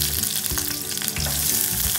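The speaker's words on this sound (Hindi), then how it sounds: "थोड़ा तेल भी उसको गर्म होने के बाद उसमें राई हरी मिर्च एंड प्याज डाल दीजिए।" Mustard seeds, green chillies and onion frying in hot oil, a loud continuous sizzle with crackling pops and occasional stirring scrapes, heard alone.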